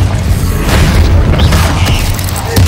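A Confringo blasting spell in the Hogwarts Legacy game bursts with a loud, booming explosion backed by dense crackling and rumbling noise over nearly three seconds.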